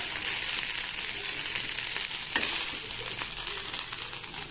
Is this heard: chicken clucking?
no